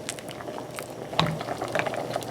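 Bambara beans simmering in water on low heat make soft, continuous bubbling with small irregular pops. The sound stays quiet and steady throughout, with no talking.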